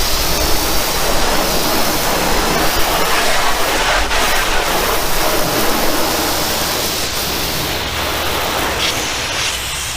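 Rinse water sheeting off a car hood, a loud, steady broadband rush that holds evenly and eases off slightly toward the end.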